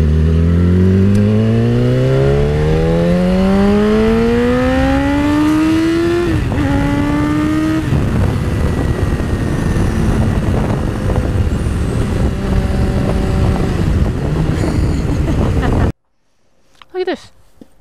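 A BMW S1000RR sportbike engine revs hard through rising gear pulls while riding, loud and close with wind rush, then drops away abruptly near the end; a rider's voice is also present.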